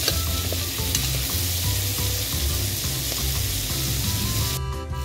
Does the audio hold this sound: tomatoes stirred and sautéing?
yes